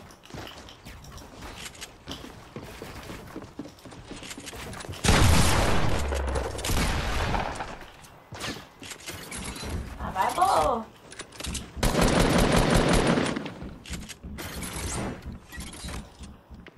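Fortnite gunfire crackles in two heavy bursts of rapid shots, with quieter in-game clatter between them and a voice talking at times.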